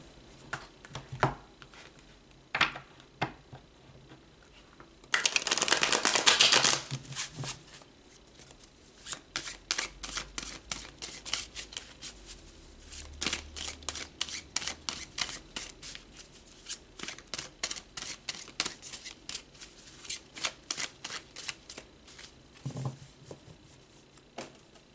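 Tarot cards are shuffled by hand in quiet, close patters and riffles, with one louder burst of rapid shuffling, then steady soft flicks and taps continuing alone.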